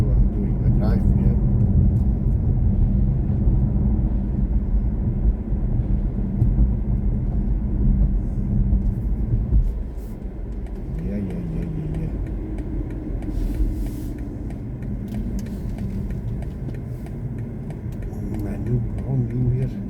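A BMW i4 M50 electric car driving on a new road, heard from inside as a steady low road rumble and tyre noise that eases slightly midway, with someone talking over it at times.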